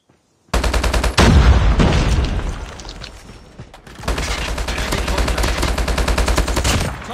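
A frag grenade goes off during a Call of Duty Mobile multiplayer match, with rapid gunfire rattling continuously around a loud, dense burst and steady firing carrying on afterward.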